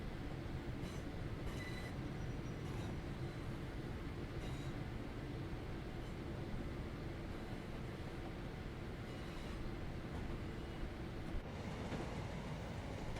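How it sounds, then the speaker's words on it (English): A train rumbles past in Train Sim World 3 on the Birmingham Cross City line, a dense, steady roar with faint rhythmic wheel clicks and some high squeal, continuous throughout with no talking. "Another train coming towards us."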